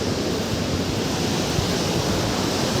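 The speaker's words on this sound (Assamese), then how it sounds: "এইটো হ'ল সৰস্বতী নদী" The Saraswati river rushing past Mana village near Bhim Pul, a dense, even roar of flowing water that holds steady throughout, moderately loud and unbroken by any voice.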